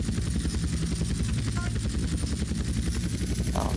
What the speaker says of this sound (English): I cross between the Harrier and the helicopter.